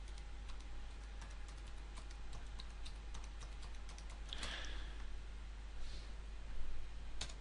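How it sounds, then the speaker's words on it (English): Someone types a search query on a computer keyboard: a quiet, fairly steady run of small keystroke clicks against a soft background hum, with no talking. "if I type in computer courseware,"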